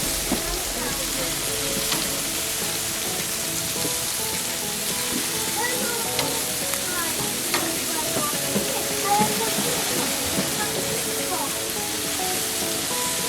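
Chicken sizzling on a grill with oil, a steady crackling hiss that runs throughout with small pops, while a person talks over it.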